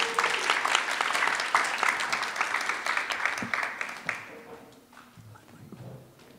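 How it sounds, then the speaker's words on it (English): Audience applause with dense clapping for about four seconds, then fading into scattered claps and quiet room noise. "Let's give her a round of applause."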